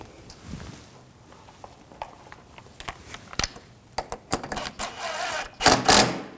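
A ratchet tightens radiator bracket bolts on a 2007-2013 BMW 328i 3.0L inline-six, making sharp, close clicks in irregular bursts that grow denser and louder toward the end.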